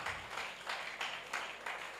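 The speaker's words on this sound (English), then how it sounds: "Please give him a round of applause." An audience at a school workshop applauds: a steady, fairly faint wash of many hands clapping with a few gentle surges, heard from a distance.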